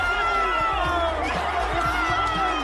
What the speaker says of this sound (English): Cue insane crowds converging in the streets of New York.